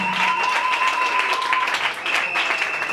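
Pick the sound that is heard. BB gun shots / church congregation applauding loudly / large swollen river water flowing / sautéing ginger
church congregation applauding loudly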